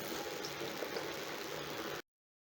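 Dried potato pieces frying in hot oil for homemade fries, a steady dense sizzling and bubbling that holds evenly for about two seconds, then cuts off abruptly.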